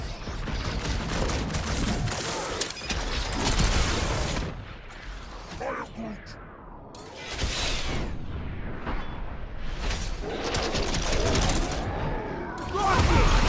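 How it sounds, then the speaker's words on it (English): Fireworks bursting in the video game Guardians of the Galaxy, a dense, continuous crackle of rapid pops and booms mixed with game sounds and voices over about thirteen seconds. "Fireworks!"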